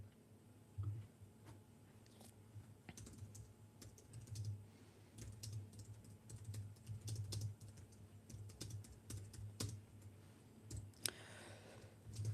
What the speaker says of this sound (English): I've got 2 computers and I was typing on the other one.